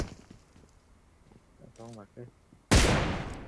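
Loud gunfire erupts in the PUBG Mobile shooter game, a sudden, sharp burst of shots that rings out and fades, following a few seconds of quiet talking and soft movement.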